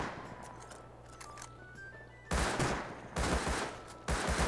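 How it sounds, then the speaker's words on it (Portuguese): Gunfire from several players in Rust, sudden loud bursts of rapid shots starting partway through and repeating in three close volleys after a quieter stretch of game ambience. "Tem uns três malucos ali atirando em mim."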